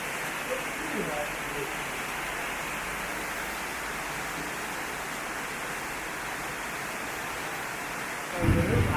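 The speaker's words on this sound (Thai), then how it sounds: "ฝนตกนะครับ อย่างหนักเลยนะครับ หนักที่สุดในรอบสามเดือน" Heavy downpour over a rural farm garden in Thailand in the evening, a steady, dense hiss of rain holding evenly from start to finish, with a brief louder rumble near the very end.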